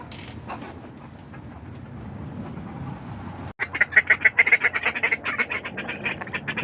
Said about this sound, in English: Ducks are behind me.